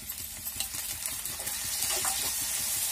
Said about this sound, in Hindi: अब इसमें टमाटर डाल देंगे